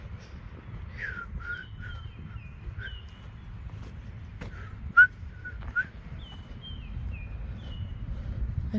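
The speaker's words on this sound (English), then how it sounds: "I wonder what kind of bird that is." A bird sings in short, high whistled phrases repeated at intervals in Muskego Park, Waukesha County, fairly distant and clear over a low steady outdoor rumble, with a couple of sharp knocks nearby.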